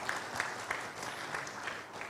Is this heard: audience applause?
yes